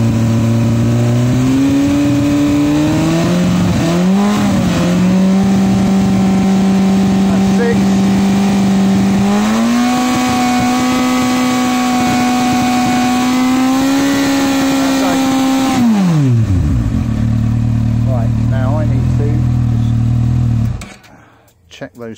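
A Honda CBF1000 motorcycle engine runs during stator testing, revving up and holding at a steady high pitch before dropping back to a lower idle and cutting off at the end.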